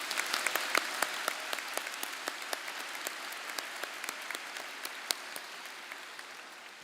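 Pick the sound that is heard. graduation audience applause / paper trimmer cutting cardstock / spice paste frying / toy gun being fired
graduation audience applause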